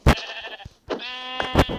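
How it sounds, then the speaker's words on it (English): Sheep bleat in two close, wavering calls, separated by a short pause, with a few sharp knocks around them. "Sheep!"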